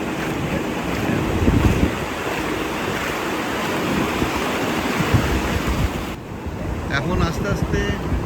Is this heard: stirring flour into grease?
no